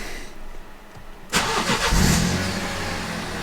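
A 12V battery has just been replaced in an F56 Mini Cooper S, and its engine cranks briefly and catches, then settles into a close, steady idle after a quiet start.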